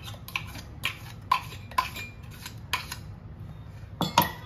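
Mango paste is scooped from a mixer jar into a cooking pot for mango kadhi, heard as a series of sharp metallic clinks and taps, about eight irregular strikes over a quiet kitchen background.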